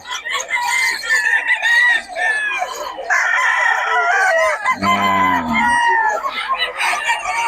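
Roosters crow repeatedly in long rising calls, overlapping one another at close range with a busy farmyard din around them.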